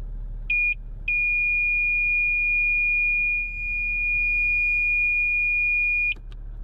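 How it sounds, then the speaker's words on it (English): A vehicle alarm on a Fusion Cruiser sounds a steady high-pitched electronic beep, two short chirps followed by one long continuous tone of about five seconds, loud and close over a low idling hum. "by holding that button down for a couple of seconds, that will override the alarm"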